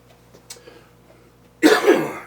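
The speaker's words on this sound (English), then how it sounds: "I just had a huge coughing spree, coughed up half a lung" After near silence with a few faint clicks, a loud, harsh cough bursts out up close and trails off raspily.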